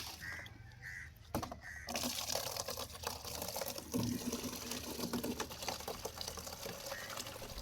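Water is poured out in a continuous splashing, trickling stream, with a few sharp clicks near the start and a fairly faint, close sound throughout.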